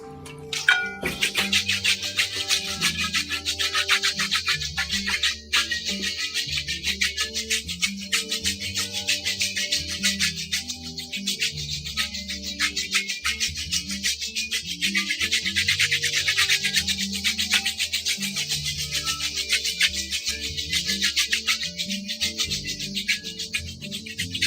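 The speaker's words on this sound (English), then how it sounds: "I'll sand it again and won't pause the video" Continuous gritty, rasping scrape of sandpaper worked by hand against a glass bottle, steady and fairly loud throughout, with a low humming background underneath.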